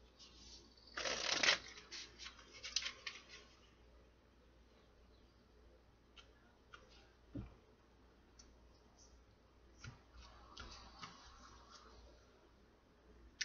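Tarot cards shuffle close by in a quiet room, a brief burst of riffling followed by scattered soft flicks and clicks as the deck settles, faint overall.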